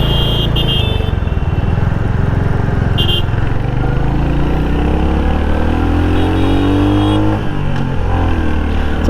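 A 2025 Royal Enfield Hunter 350 with slipper-clutch assist is ridden and downshifted through its gears. The engine is loud and close, its pitch sliding up and down with each change and a clear gear drop about three-quarters of the way through.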